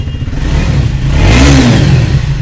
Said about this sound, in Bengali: এটা সাউন্ডে ইঞ্জিনের শুনে দাও।